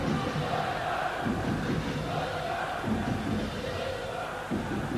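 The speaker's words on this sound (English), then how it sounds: "An excellent crowd here, enjoying every minute of this game." Large arena crowd roaring steadily through an ice hockey game between Canada and West Germany at the 1990 world championship, a dense sustained wash of noise with a commentator's voice running over it.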